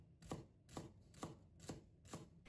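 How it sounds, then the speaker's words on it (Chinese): A knife chopping scallion whites into small pieces on a board, five evenly spaced crisp taps, close and quiet. "把葱白切成粒。"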